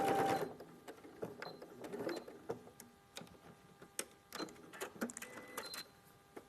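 A domestic sewing machine stitches fabric in short bursts of whirring, stopping and starting several times, fairly quiet and close, with no talking over it.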